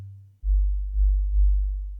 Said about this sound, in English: sine wave. Have it more like an 808.